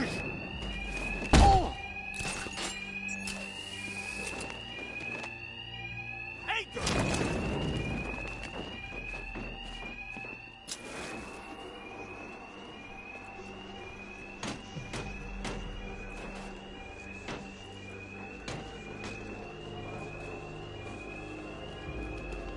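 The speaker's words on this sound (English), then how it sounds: "Two-Face's thugs won't hear me over the alarm." A repeating electronic alarm rings steadily through a Batman video game level, a rising-falling tone pulsing under loud thumps, impacts and game sounds, with voices talking over it.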